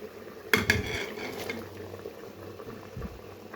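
Bitter gourd is tipped into a pot of pressure-cooked mutton with a couple of sharp metallic clanks, followed by soft bubbling, sizzling and the scrape of a spoon stirring.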